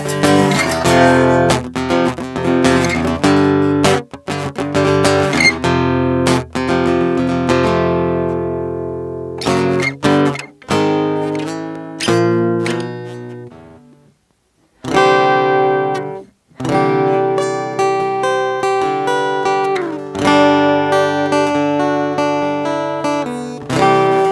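An acoustic guitar with DR Veritas 12-54 strings plays a steady, busy bass line of plucked notes, ringing clearly with a couple of brief pauses. No one speaks.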